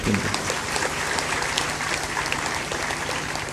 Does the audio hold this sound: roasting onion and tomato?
no